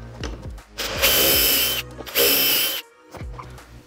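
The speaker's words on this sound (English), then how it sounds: "and then drill our holes." A power drill whirs up to speed in two bursts, drilling holes in wood held in a jig, close and loud, with clicks and handling noises of the tool between runs.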